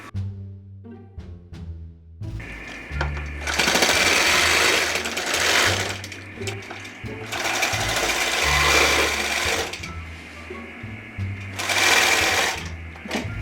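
A longarm quilting machine stitches quilt binding in rapid mechanical bursts, its needle chattering loudly in several runs separated by brief pauses, with a few slower single tacks at the start.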